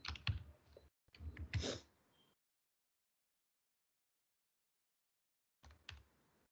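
Someone typing Python code on a computer keyboard: close, dense bursts of keystrokes for about two seconds, then silence, then a short final flurry of taps.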